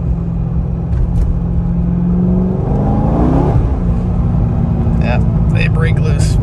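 A C6 Corvette on fresh tires pulls through a gear change into second on a wet road, its engine rumble rising and falling steadily close by with some tire and road noise.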